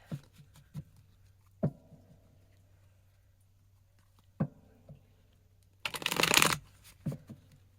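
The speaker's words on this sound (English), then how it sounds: "I was having a really hard time shuffling right there in the beginning" Tarot cards being shuffled in short bursts, with sparse riffling clicks and taps followed by one louder, dense riffle near the end; no talking.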